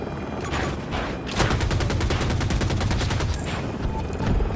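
Super Hokum attack helicopter in Battlefield 2042 unleashes sustained rapid cannon and gun fire, a dense, loud, rhythmic hammering of shots with overlapping bursts across the whole stretch.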